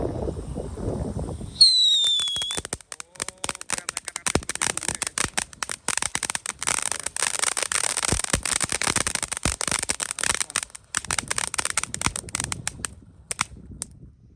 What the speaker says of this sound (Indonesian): Selanjutnya kita nyalakan ini mercon blooming flower.